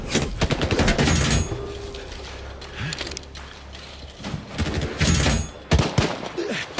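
Bursts of rapid gunfire in a S.T.A.L.K.E.R. video game crackle in loud, uneven volleys with clanking mechanical noises between them, the shots dense at the start and again near the end.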